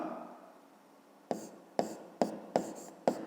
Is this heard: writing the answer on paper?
yes